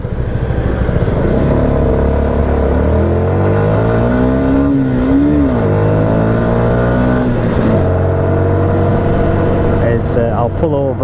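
A Yamaha MT-125 ABS motorcycle fitted with a back box is ridden along, its small engine droning steadily and close, the pitch rising and falling as it shifts and changes speed, with rushing wind and a voice talking over it.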